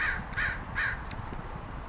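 Crows caw in a park while harassing a hawk: three harsh, evenly spaced caws come first, then a brief faint call, at moderate distance outdoors with no talking.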